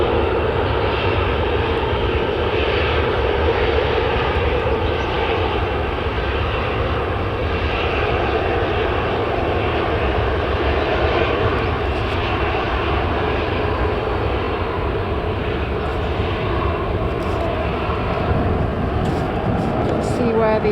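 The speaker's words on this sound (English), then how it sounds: "We've got a KLM Boeing 737-800 which has just arrived" A KLM Boeing 737-800 that has just arrived from Amsterdam at Manchester Airport, heard as a continuous loud jet engine roar holding steady throughout, with a broad rumbling drone close by.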